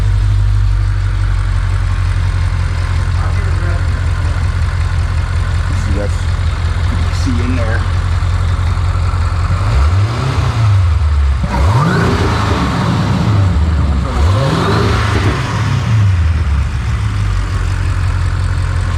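An Audi RS7 with a hot V twin-turbo setup and Fi exhaust idles, then revs in several sharp rising bursts, loud and close, with people talking over it.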